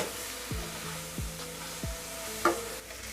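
Three soft scraping strokes of a spoon mixing spices into frying tomato and onion for Chettinad fish curry, over a quiet, faint sizzle, followed by a small clink.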